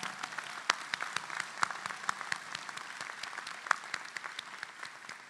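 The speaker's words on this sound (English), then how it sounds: "Let's give them a round of applause." Scattered applause at a medical school white coat ceremony: sparse, distinct individual claps with a few sharper ones standing out, fairly quiet and somewhat distant.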